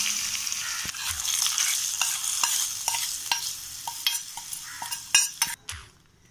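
A hot tempering is poured into dosa batter and stirred, giving a bright sizzle that fades into repeated scraping and stirring strokes, then stops abruptly.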